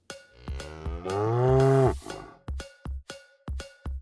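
A cow gives one long, loud, close moo, accompanied by regular clanking strikes of a cowbell, like a rhythmic beat that keeps going after the moo ends.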